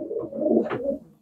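Pigeons coo softly in a loft, a short, low, throaty burbling call that is close and clear, with no talking over it.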